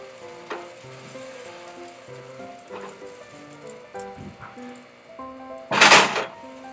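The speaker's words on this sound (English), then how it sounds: "drop your batter into the pan by the 1/4 cup full" Blueberry pancake batter dropped by the quarter cup into a pan heated on medium-high, giving one short, loud burst of sizzling near the end over steady background music.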